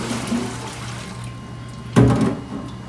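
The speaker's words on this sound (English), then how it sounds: "we're gonna take and drain our noodles, get all that excess water off of" Water pours off cooked elbow noodles as they are drained in a kitchen, a low splashing rush that gives way to a sudden louder gush near the end.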